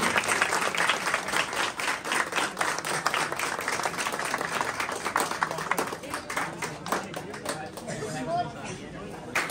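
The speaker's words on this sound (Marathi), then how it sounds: "आर्यन्स टाळ्या खूप कमी पडत आहेत, जोरदार टाळ्या आल्या पाहिजे." Loud applause from a crowd at a Govinda Pathak practice launch event, dense continuous clapping for several seconds that gradually thins out toward the end, with chatter mixed in.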